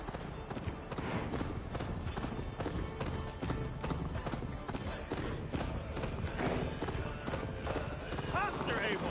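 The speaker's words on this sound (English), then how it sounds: "Best not fall off your horse." Rapid, rhythmic hoofbeats from galloping horses in the Viking-era game Assassin's Creed Valhalla thud continuously at close range, with voices talking over them and a brief whinny toward the end.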